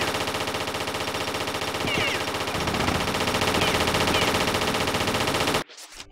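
Sustained rapid turret machine-gun fire in the Tomb Raider video game, a loud continuous rattle with game music underneath that cuts off abruptly near the end.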